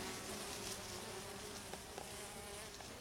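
Steady, dense buzzing of many honeybees close by at a round hive entrance as they leave and return with pollen, a continuous drone with occasional louder individual bees passing near.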